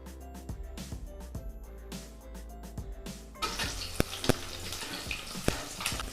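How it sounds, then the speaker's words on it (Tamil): Oil is poured into a pan for frying chicken, a soft rushing, sizzling hiss that starts about halfway through after a stretch of quiet clicks and tonal background sounds, with a few sharp clinks on top. "கரெக்டாக நீங்கள் அந்த ஃப்ரை பண்ணுற அளவுக்கு உள்ள எண்ணெயை ஊற்றிக்கிங்க"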